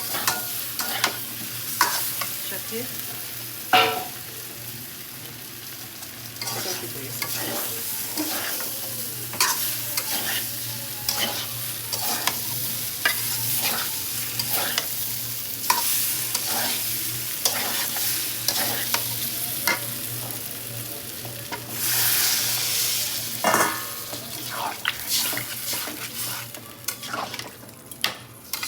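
Fried jackfruit is stirred into spiced potato curry in a pan: repeated scraping strokes of a spatula against metal over a continuous soft sizzle, with one brief spoken word.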